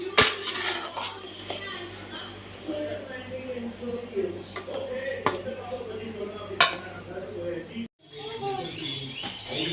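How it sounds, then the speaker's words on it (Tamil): Chicken fried rice being stirred in a pan, with clinks of a utensil against the metal and a steady background hiss, plus a few sharp louder knocks; a voice talks over it. "இப்போ நம்ம ரைஸ் நல்லா மிக்ஸ் பண்ணி விடணும்."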